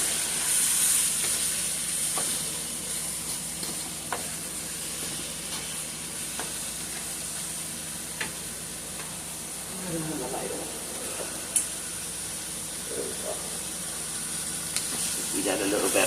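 Sausage, Italian sausage and other ground meat sizzle and hiss steadily in a pan for a baked spaghetti, with occasional scraping from stirring, while a voice speaks faintly at times.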